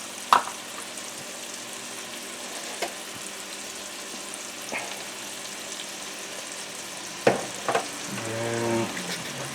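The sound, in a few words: cheese steak filling frying and sizzling in pan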